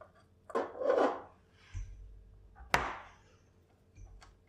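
A knife slices through a rope of Nutella and walnut cozonac babka dough: a few short soft rasping cuts and a sharper chop on the board, close up and quiet.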